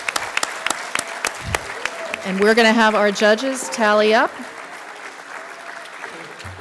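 A spelling bee audience claps for a group of young spellers, scattered applause at the start giving way to someone speaking over a microphone.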